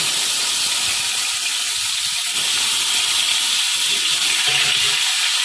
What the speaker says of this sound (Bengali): এবার আমি মাছ ভাজার তেলে বেগুনগুলো ভেজে নেব।